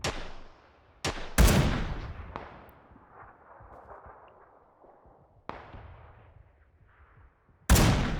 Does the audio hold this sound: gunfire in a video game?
yes